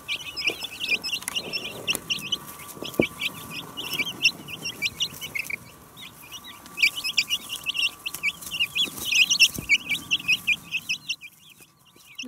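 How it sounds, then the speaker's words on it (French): Many Brahma chicks cheep in quick, high, overlapping bursts, close by and fairly loud, with a few soft low knocks underneath. "comme le laissent entendre les petits gazouillis caractéristiques"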